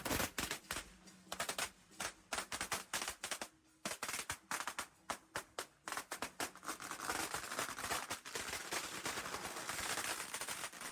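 Strings of firecrackers crackle and pop in dense rapid bursts at a Thai spirit medium shrine procession, loud sharp reports coming in clusters with brief gaps, then merging into a continuous rattling barrage toward the end.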